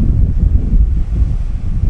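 Blustery seashore wind buffeting the microphone at the Lobo, Batangas coastline, a loud, unbroken low roar with surging gusts and a hint of waves beneath, no voices.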